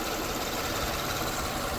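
A 2004–2006 Lexus ES330 engine idles steadily on a flat surface, a continuous close mid-range hum with faint vibration and no voices.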